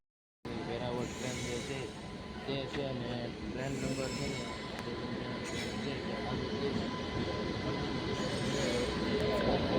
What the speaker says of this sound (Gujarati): જો આપણી ટ્રેન આવી ગઈ છે ને આપણે આમાં એન્ટર થવાનું છે